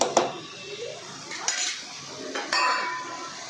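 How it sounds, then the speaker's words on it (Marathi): Tomato and onion are mashed in a pan, heard as a few close metallic clinks and scrapes of a utensil against the pan, spaced out over soft background noise. "हे असं स्मॅश करून घ्यायचं पूर्ण आपलं टोमॅटो, कांदा"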